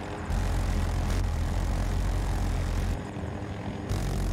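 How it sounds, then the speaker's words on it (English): A propeller airplane engine in the video game Battlefield 2042 drones as a loud, steady roar that cuts in abruptly, runs without talk and dips briefly near the end before resuming. "What kind of plane is this?"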